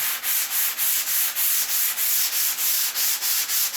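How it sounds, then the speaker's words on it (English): Rhythmic strokes of fine-grit sandpaper smoothing a stringer, a steady back-and-forth rasp repeating about three times per second, close and even, with no voices. "I'm not sanding too much, I'm just polishing it."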